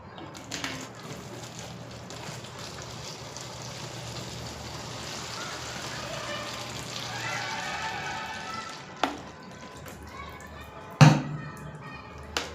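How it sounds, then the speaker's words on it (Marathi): Water poured into a plastic bottle pierced with holes at top, middle and bottom, a steady running, trickling stream for most of the stretch, close by, followed by a few sharp knocks and handling clunks near the end. "पाडल्यानंतर मी या बाटलीमध्ये पाणी भरणार आहे"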